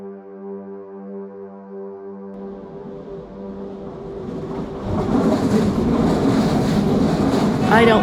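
A low harmonic drone gives way to a building rumble and rattle of a train rolling along the rails in Alaska, growing louder toward the end.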